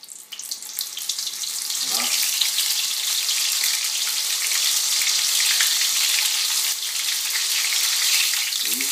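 Scallops dropped into hot oil, a loud dense crackling sizzle that surges within the first seconds and holds steady and close throughout.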